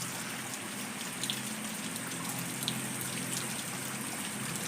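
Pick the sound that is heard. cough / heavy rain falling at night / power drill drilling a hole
heavy rain falling at night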